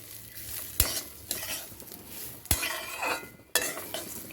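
A spoon stirs rice and lentils in a pot for an oil-free one-pot dish, with a few sharp knocks against the rim and soft scraping between them, quiet and close.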